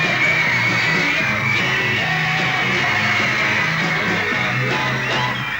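Crowd of Beatles fans screaming and yelling at a premiere, a dense, continuous wall of high-pitched shrieks sustained at steady loudness throughout.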